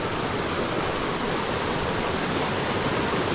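Little Bear Creek, a mountain stream along a forest trail in northeast Pennsylvania, running full and rushing steadily, a loud, continuous broadband wash of water close by with no voices.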